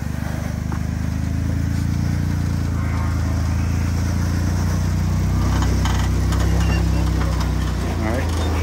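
An off-road vehicle's engine labors steadily as a tire climbs a rock wall on a severe trail, with a continuous low drone that strains and rises in pitch, loud and close throughout.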